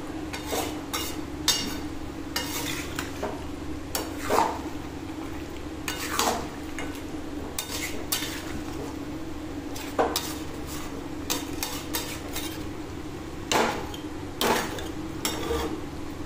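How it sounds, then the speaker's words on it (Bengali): Chicken curry being stirred and braised in a pot, with repeated metallic scrapes and clinks of a spoon against the pot over a steady low cooking hum. "এটাকে খুব ভালো করে কষাবো আমি"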